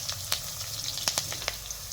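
Green chillies, curry leaves, garlic, ginger and a pinch of asafoetida tempering in hot oil, a soft steady sizzle with scattered sharp crackles and pops up close.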